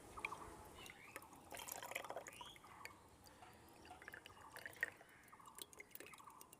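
Mangoes being rinsed under water give soft, irregular drips and small trickles, quiet and close, with occasional faint splashes.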